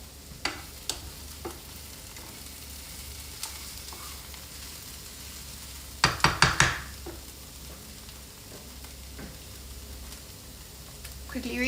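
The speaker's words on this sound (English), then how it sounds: "Quickly stirring the onions." Onions stirred quickly in a pan during home curry cooking, with a soft steady sizzle under scattered utensil clicks and a short burst of scraping taps near the six-second mark.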